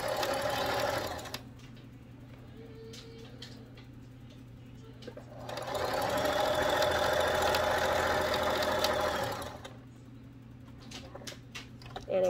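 A sewing machine stitches fabric for a simple two-piece gift bag, rapid mechanical clatter running in two bursts with pauses between, close and clear, with faint background noise.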